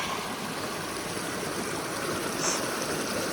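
A stream rushes beneath a log crossing on the Appalachian Trail between Black Gap Shelter and Hawk Mountain, giving a steady, close, broadband roar of flowing water throughout, with no speech.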